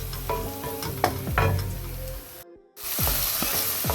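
Garlic and onions sizzle and fry in a pan for meatless pilao rice, a steady close hiss broken by stirring scrapes, with a brief drop to silence before the frying resumes.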